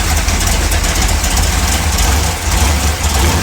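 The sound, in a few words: 1955 Chevy engine revving during a mild brake stand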